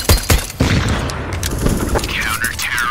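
In a CS:GO match on the Inferno map, a few loud booms of a grenade blast come first, then a rattle of gunfire continues close by, with a voice heard briefly.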